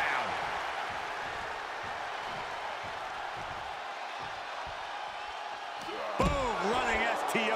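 At a WWE SmackDown tag match, a wrestler is planted on the mat with a running STO. A loud, busy crowd cheers over thudding ring impacts, and a sharp slam near the end brings a surge of cheering.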